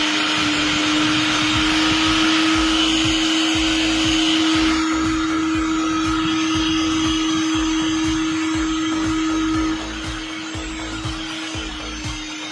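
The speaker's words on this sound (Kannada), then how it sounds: "ಇದು ಮಿಕ್ಸಿ ಇದು 750 ವ್ಯಾಟ್ ಮಿಕ್ಸಿ, 750 ವ್ಯಾಟ್ ಮಿಕ್ಸಿ ಇದು ನೋಡ್ಬೋದು" A 750 watt mixer grinder running on a 1 kVA solar inverter, a loud close steady motor whine with grinding rattle that drops slightly in level partway through, with no voices.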